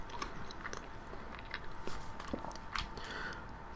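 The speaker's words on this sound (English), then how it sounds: "I'm chewing." Close, quiet mouth sounds of someone chewing food, with soft irregular bites and crunches over a low background hum during a Fallout livestream.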